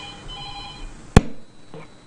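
A telephone rings for an incoming call on an evening constituency call-in programme: a steady electronic ringing tone ends in a sharp, loud click near the middle, followed by a faint line hiss and a brief soft tone.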